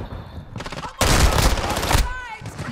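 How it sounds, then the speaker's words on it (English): Gunfire in a Call of Duty match, with a sniper rifle in use: a dense, loud burst of shots lasting about a second, set between stretches of quieter game sound and faint voices. "Dude, I got him with a sniper."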